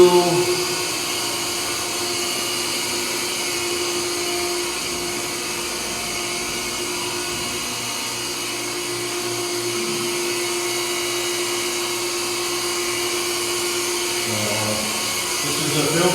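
A swimming pool pump runs with a steady, even mechanical hum and a constant high whine, close by and unbroken for the whole stretch.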